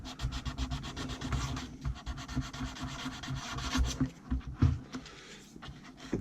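A small Ma.K Brickworks model figure is sanded by hand with quick back-and-forth rubbing strokes, close and continuous, with a few short pauses and bumps.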